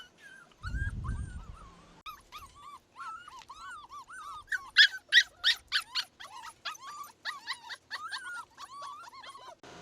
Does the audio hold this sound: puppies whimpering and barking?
yes